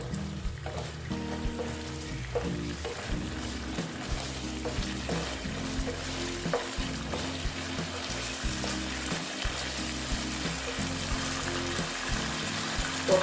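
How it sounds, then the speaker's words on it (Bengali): Pointed gourd (potol) pieces fry and sizzle in a pan while being stirred, a continuous close crackling hiss with repeated scraping and clinking over the full stretch. "পটলগুলো দিয়ে দিচ্ছি দেখো পটলগুলো দিয়ে পটলগুলোর সঙ্গে আবার আমি কষিয়ে নেবো"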